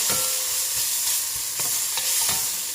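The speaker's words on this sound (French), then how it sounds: "Je fais revenir mes poivrons. Voilà, ils sont bien revenus là." Bell peppers sauté in a pan for a Niçoise ratatouille, giving a steady loud sizzle with a few short stirring scrapes and clicks of a utensil against the pan.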